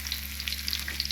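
A single piece of Sankara fish fries in a pan with a steady, close crackling sizzle and scattered oil pops, continuous through the short stretch with no talking.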